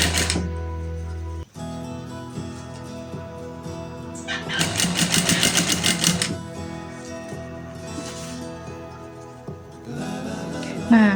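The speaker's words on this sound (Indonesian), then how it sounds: "Setelah itu kita jahit pas tepat di pinggiran ya teman-teman." A sewing machine runs in short bursts while stitching along a garment's neckline edge, with one longer fast whirring run in the middle, close and moderately loud between quieter handling noises.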